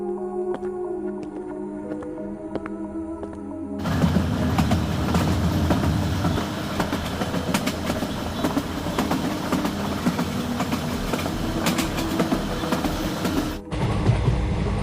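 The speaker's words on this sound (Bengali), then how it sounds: "ট্রেন ছেড়ে দিল" A passenger train pulls out and rolls on, a loud, close, continuous rumble with rhythmic wheel clatter that bursts in after a quieter musical opening and runs steadily before cutting off.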